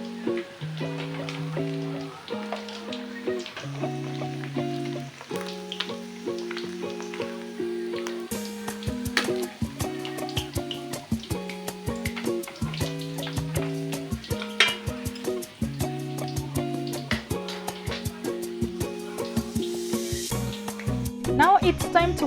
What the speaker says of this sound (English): Now it's time to fry seasoned tilapia, which comes out golden with a rich aroma from spices.